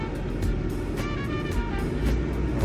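A Komatsu WA380-6 wheel loader rolls forward in first gear, its engine a steady, loud, close diesel rumble with faint repeated clanks over it.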